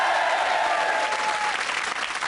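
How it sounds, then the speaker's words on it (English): A studio comedy show audience claps loudly and continuously in dense, sustained applause throughout, with a faint crowd murmur. "let's have a big round of applause"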